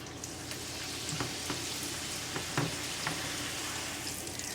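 Tortillas for chicken enchiladas fry two at a time in hot oil, giving a steady close sizzle with scattered sharp crackles and pops.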